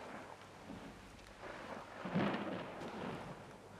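A faint, distant rumble of thunder rolls in as a storm gathers outside in a Chekhov period drama, swelling briefly near the middle over a soft background hiss.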